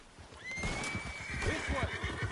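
Horses whinny in Red Dead Redemption 2, a long high neigh carrying over rhythmic clip-clopping hooves, with a second whinny and faint voices mixed in.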